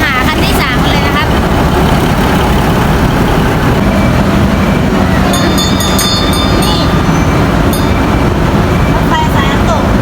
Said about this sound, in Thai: รถไฟสายน้ำตกผมเลือกสายน้ำตกครับนี่คือตู้ที่ผมจะได้นั่งครับ